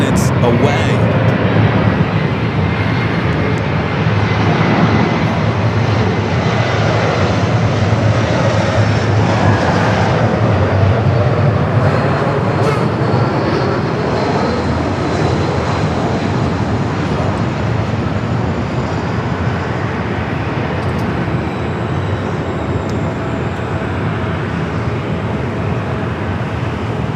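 An airliner lands on runway 24 at LAX, its jet engines a loud, continuous broadband roar that holds steady for a long stretch, with people talking over it.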